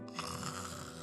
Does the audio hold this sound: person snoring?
yes